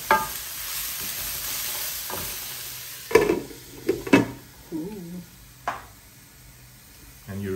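Chicken mushrooms cook in a pan with a soft sizzle, punctuated by several sharp scrapes and clacks of stirring at close range, while people talk nearby.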